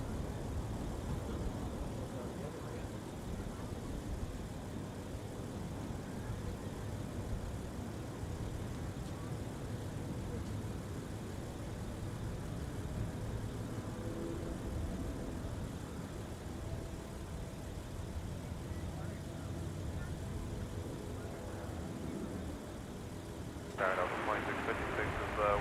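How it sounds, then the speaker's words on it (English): A small Cessna jet comes in to land at Minneapolis–Saint Paul airport, a steady broadband engine rumble that stays fairly constant and moderately distant throughout, with people talking over it. "We got a Cessna coming in."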